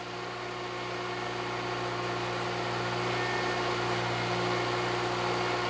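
A car engine in a variable valve timing demo runs steadily with the throttle opened slightly, giving a constant, even hum and drone with a smooth tone and a slight rise in loudness and no talking over it.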